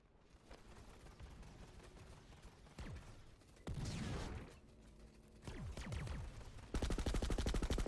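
Fireworks going off in a shooter video game: a string of sharp bangs and swooshing bursts of rising loudness, ending in a fast, loud crackling rattle, with no voices.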